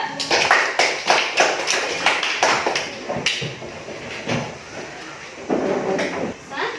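A classroom of students claps for group 4 before their presentation, a burst of sharp, close clapping that fades out, followed by voices talking.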